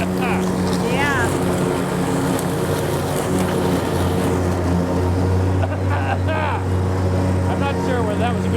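A Dixie Chopper riding lawn mower's engine runs steadily and loud throughout, a constant drone with wind rumble, while people exclaim and talk over it.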